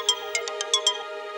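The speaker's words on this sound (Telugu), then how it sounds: "సార్, సీఎం గారు ఫోన్ చేస్తున్నారు." A phone ringtone for an incoming call, a short bright melody of six quick electronic tones, loud and close, with no one speaking.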